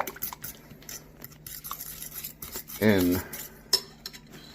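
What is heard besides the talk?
stirring gravy into cooked turkey in a pan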